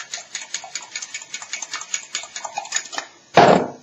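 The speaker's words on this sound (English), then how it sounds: "I think 3 eggs will make a decent meal-sized omelette. So I'm just going to whisk that" A fork or whisk beats three eggs in a bowl for an omelette, a quick, regular clatter of close taps for about three seconds, then a short louder scrape as it stops.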